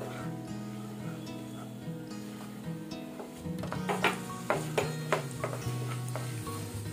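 Moong dal frying in a pan for halwa, soft sizzling with light stirring and scattered ticks of utensil against the pan that grow busier and louder midway, over a faint background hum.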